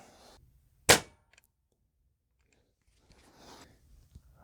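A Crosman Crusher air rifle fires once while dieseling with acetone, giving a single sharp, loud crack that decays quickly, followed by faint handling clicks and rustles.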